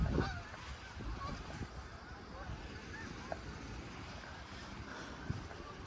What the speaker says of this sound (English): It's all the geese you hear in the background.